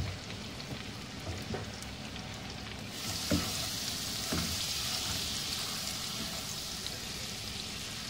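Butter and oil heating together in a frying pan for béchamel, a faint continuous sizzle that grows brighter and hissier partway through, with a couple of soft knocks and no voices.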